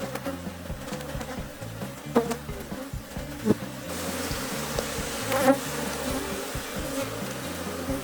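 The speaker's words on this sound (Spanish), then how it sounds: "Están un poco nerviosas las abejas, ya que no es un comportamiento normal cuando la colmena no tiene reina." Nervous honeybees in a queenless hive during a colony split, a close, continuous droning buzz with individual bees flaring louder as they pass near, and no talking.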